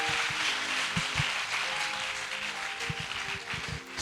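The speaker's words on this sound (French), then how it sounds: "Acclame le roi des rois si tu as compris" Church congregation applauding during a French-language sermon, a steady broadband wash of clapping with scattered louder claps, continuous and fairly close throughout.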